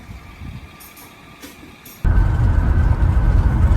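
A large tow truck loading a car whines faintly, then a loud hydraulic or engine roar kicks in abruptly and holds steady, heard from close by outdoors.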